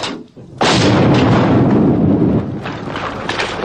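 Artillery fire in western Bosnia during the Bosnian war, a heavy, loud rumbling blast that erupts after a brief quiet, then a sustained roar that slowly fades with further distant thuds.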